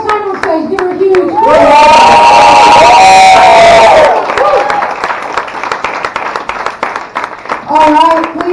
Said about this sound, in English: please keep that round of applause going, keep that energy up